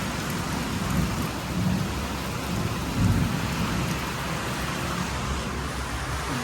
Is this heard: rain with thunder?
yes